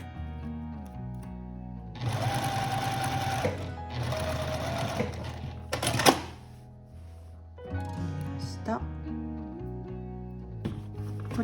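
A sewing machine stitches a concealed zipper in two loud whirring bursts, then a sharp clunk and shorter, softer runs with mechanical clicks, close and with no voices.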